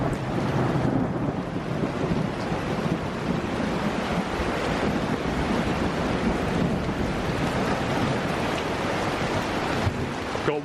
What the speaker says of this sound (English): I can feel the rain coming down it slightly through the tarp or the parachute